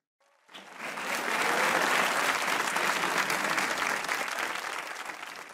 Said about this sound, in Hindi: खलील साहब पे तालियां बज रही हैं